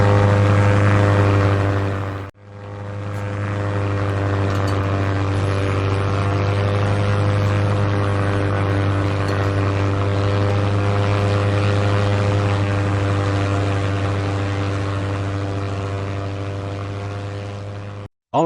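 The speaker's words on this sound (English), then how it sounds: "For the first, I built a plane and filmed the scene there." A propeller plane in Minecraft drones steadily and loudly for the whole stretch, with a brief dip near the start, then ends abruptly.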